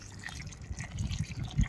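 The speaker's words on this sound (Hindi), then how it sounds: "छोटे बड़े गमले हर गमले में पानी भर देता हूँ" Water poured into soil-filled plant pots: a short, soft trickle and gurgle of liquid soaking into earth, close and fairly quiet, with no talk.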